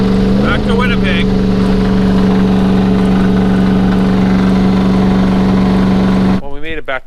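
A car with a turbocharged 6.0 LS engine, low on oil pressure, drones loudly at close range with a steady low hum and a faint whine, while voices talk briefly over it before the engine cuts out.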